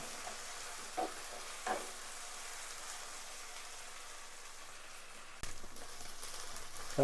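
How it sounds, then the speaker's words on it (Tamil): Ginger and garlic sauté in a pan for goat leg soup. A soft, even sizzle runs throughout, with a few faint scrapes of stirring and a louder burst near the end. "இஞ்சி பூண்டு சேர்த்துட்டு இதை வந்து ஃபுல்லாக மிக்ஸ் பண்ணிவிட்டு"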